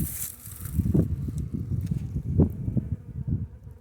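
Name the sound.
Italian honeybees buzzing during hive inspection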